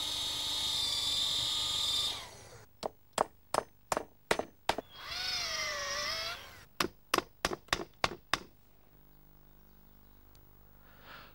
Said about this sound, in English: so it has to be drilled